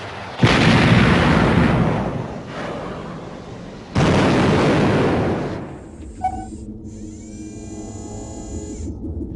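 Two heavy, rumbling blasts of artillery and explosions from the Command and Conquer video game, each roaring for a couple of seconds. Thin electronic tones and a sweeping whine follow.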